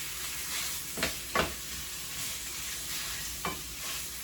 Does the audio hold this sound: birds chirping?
no